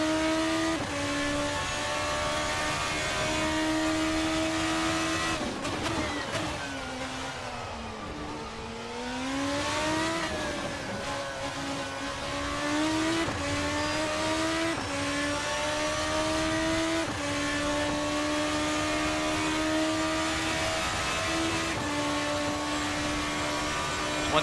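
A Formula RSS 2 open-wheel race car in a racing simulator screams through the gears, its high engine note rising and falling with upshifts and a deep lift around a corner, loud and continuous with no talk.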